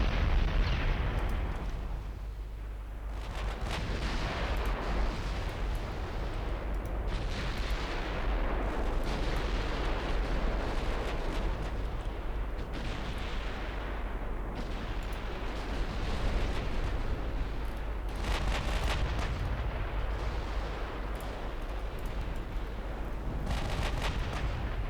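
Heavy naval gunfire from warship turrets in the game Ultimate Admiral: Dreadnoughts, a continuous barrage of deep booming blasts and rumbling explosions overlapping for nearly half a minute, loud and dense with no talking.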